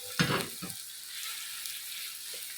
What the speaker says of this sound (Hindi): जब गर्म हो जाए एक बड़े साइज़ का प्याज ऐड करेंगे।